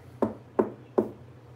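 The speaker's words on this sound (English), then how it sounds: "Knock on wood." Three evenly spaced knocks on wood, crisp and close, each with a short hollow decay over a low steady hum, no talking.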